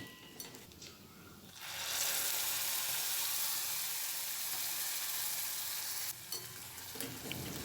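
Tomato puree poured into hot oil with a little Kashmiri chili powder, starting from a quiet crackle and swelling into a loud, steady sizzle heard up close, with a few stirring clinks near the end.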